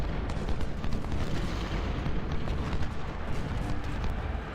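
Musket volleys crackle in the Ultimate General: Civil War game during the Battle of Chancellorsville, a dense, continuous rattle of overlapping gunfire with distant booming artillery, steady and loud with no talk.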